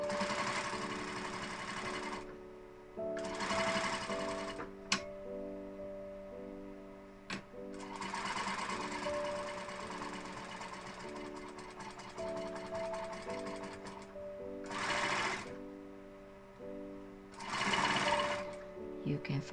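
Sewing machine stitching a seam in bursts, its motor whirring in several runs separated by pauses, moderately close, with a faint voice and a few clicks between.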